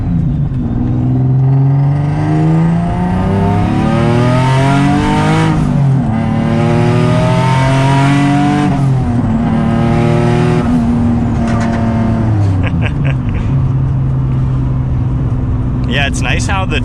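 A single turbo Nissan 370Z pulls hard in second gear: loud, close engine roar climbing in pitch with brief dips and a turbo whine, heard from inside the car.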